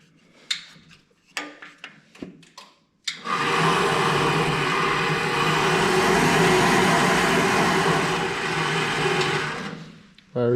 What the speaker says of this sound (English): Rebuilt bandsaw I got from my dad. Put a VFD on it so I can cut metal.